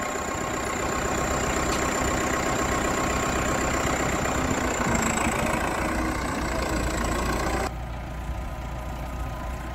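A vehicle engine idles steadily at a hay barn while backing up, a continuous droning hum with a faint high whine, cutting to a slightly quieter idle near the end.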